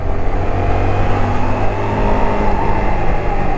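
Honda CBR 250R motorcycle being ridden, a loud steady engine drone with a continuous mid-pitched hum and rushing road and wind noise throughout.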